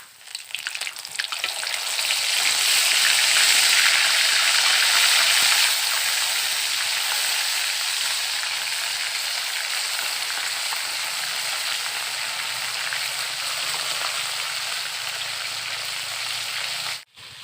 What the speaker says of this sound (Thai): เดี๋ยวเขาจะเอาปูลงไป ทอดแล้ว